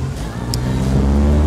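Hebmüller VW Beetle convertible with a 2.0 automatic engine pulling away, its loud, steady engine drone building slightly as it drives off.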